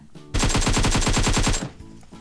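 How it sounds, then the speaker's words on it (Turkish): Nearby automatic gunfire in the PUBG Mobile video game: one loud, rapid burst of about a dozen evenly spaced shots lasting over a second, then an abrupt stop. "Bir yakın silah sesi duydum sanki."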